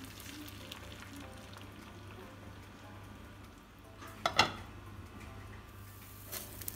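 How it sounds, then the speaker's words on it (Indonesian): Egg omelette batter frying in a little cooking oil over low heat, a soft steady sizzle throughout with a brief sharper crackle and clink midway, heard close and fairly quiet. "adonan tadi didadar dengan sedikit minyak goreng"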